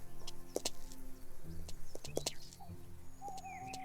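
Bird calls and chirps in the game Lumberjack's Dynasty, a few short calls scattered over a steady outdoor ambience at moderate volume, with a low hum beneath.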